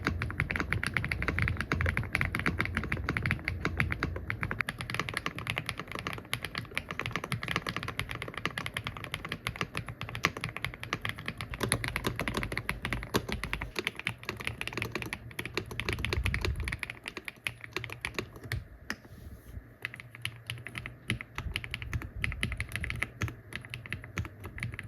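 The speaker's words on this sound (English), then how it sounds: "The typing experience on this keyboard, first of all, is really good." Steady, continuous typing on a Mechlands Vibe mechanical keyboard, a dense run of close, crisp keystrokes heard alone throughout with no talking.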